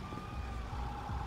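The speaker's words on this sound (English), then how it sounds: "ambulance responding code 3" Ambulance siren in GTA 5 during a police patrol, heard as a steady wailing tone over a constant rumbling background, with no talk.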